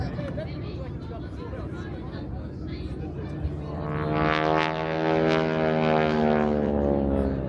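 A Pratt & Whitney R-1340 radial engine of about 600 horsepower drones loudly as a warbird passes at an airshow in Wanaka, New Zealand. Steady crowd and wind noise comes first, then the engine swells in and holds strong to the end.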